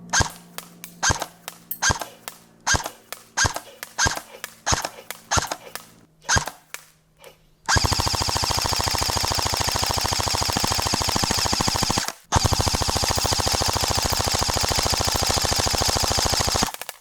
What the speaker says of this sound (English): Now let's go ahead and do some full auto and see what this guy's getting.